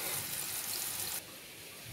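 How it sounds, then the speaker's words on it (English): A chicken fillet fries in about four tablespoons of oil in a pan, giving a steady, close hiss and crackle that drops slightly in level partway through. "So while that's frying,"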